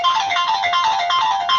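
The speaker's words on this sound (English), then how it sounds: "That's a hell of a ringtone there." A phone ringtone plays loud and close, a bright electronic warbling melody repeating in quick, even pulses with no talking over it.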